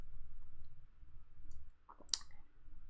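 Keyboard keys pressed for an undo shortcut while editing in Photoshop, a few faint clicks with one sharper click near the end, heard alone.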